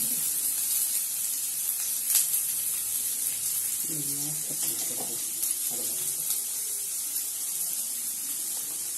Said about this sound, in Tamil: இந்த பூண்டும் வெங்காயத்தையும் நல்லா வதக்கணும்.